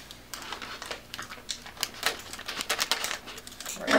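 Plastic packaging casing around a RoboRIO power distribution board being cut open, giving a run of close, irregular crisp snips and crackles that grow busier toward the end, with no talking.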